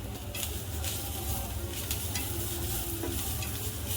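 Freshly grated coconut roasts in a pan, giving a steady, close sizzle and crackle with stirring scrapes throughout and no voices.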